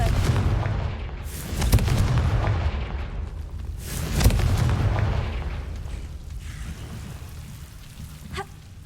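A Confringo blasting spell in Hogwarts Legacy sets off loud booming blasts amid a dense rumbling wash of game effects, with a couple of sharp bursts standing out.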